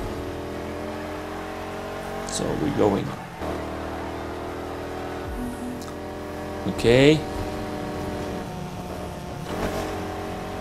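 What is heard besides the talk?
car driving in video game Need for Speed Heat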